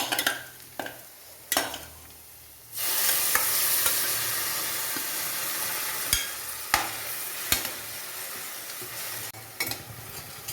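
Potatoes and onions fry in hot oil, a steady sizzle that swells after a few seconds, broken by sharp clicks and scrapes of a spoon stirring against the pan.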